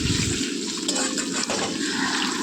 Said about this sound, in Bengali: এখানে দেখো পনিরগুলোকে ভেজে নিচ্ছি